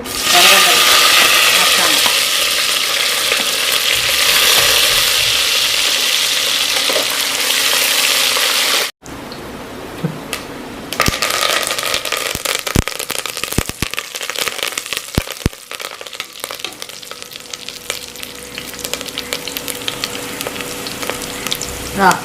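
Cardamom, bay leaves and green chillies for a country chicken curry hit a hot pan with a loud, bright sizzle that cuts off abruptly, followed by quieter frying with scattered crackles and pops.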